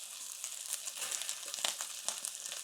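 Butter frying in a pan on low heat, a soft steady sizzle with faint crackling pops, quiet and close.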